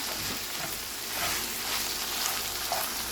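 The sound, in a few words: ground lamb and tomato paste sizzling while stirred in pan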